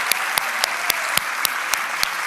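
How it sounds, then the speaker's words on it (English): Crowd applause for shofar ministers at a church service, a dense steady wash of many hands with a few sharp, evenly spaced louder claps standing out, sustained throughout without talk. "Let's give all the ministers with the shofar a great big hand clap."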